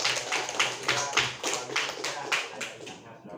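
A classroom of schoolchildren in Indonesia claps hands together in a brisk, rhythmic beat, about a dozen synchronized bursts fading out at the end in a reverberant room.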